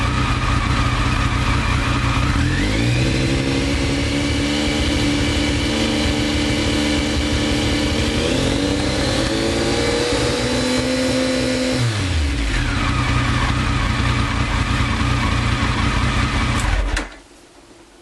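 A Triumph Sprint 955i motorcycle engine, under stator testing, idles loudly up close, then revs up above 2000 RPM twice, holding steady, whining higher before dropping back and cutting off near the end, with no talk.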